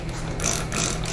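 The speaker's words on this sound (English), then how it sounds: "So I'm just going to use a spray bottle" A handheld spray bottle squirts water onto bread being moistened for a freeze dryer, making two quick, close hissing spritzes with a faint mechanical click from the trigger.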